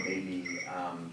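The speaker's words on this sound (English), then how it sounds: "No, that's just my phone ringer." A mobile phone ringer set to a cricket-chirp tone trills steadily at a school committee meeting, sounding close and continuous beneath a person talking.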